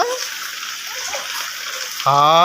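Water sloshing and splashing as someone wades through rain flood water on a Hyderabad street at night, a continuous close wash of noise before a voice starts speaking over it.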